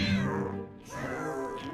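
A mischievous black cat in a Minion 3D animation lets out one drawn-out, close meow that wavers in the middle, loud and alone, with no talking over it.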